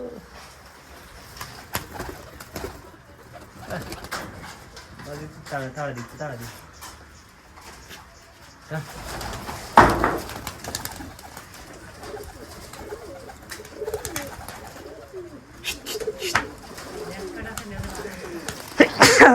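Giribaz pigeons coo repeatedly at a pigeon farm, soft throaty calls rising and falling close by, with people talking over and between them and a few sharper noises mixed in.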